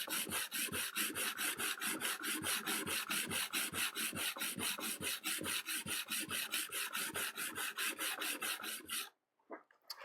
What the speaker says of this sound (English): So the sharpening stone always sits right by your side.